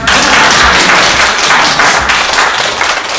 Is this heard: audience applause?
yes